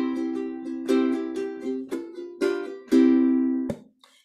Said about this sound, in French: Donc, ça, c'est un son d'ukulélé traditionnel.